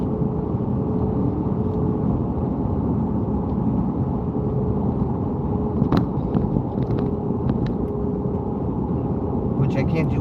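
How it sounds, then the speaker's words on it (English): Dense, steady roar of mud-terrain tires on a truck rolling along a trail, recorded from inside the cab, with a few faint knocks and rattles near the end. "audio is muddy. That's because you hear the tire noise."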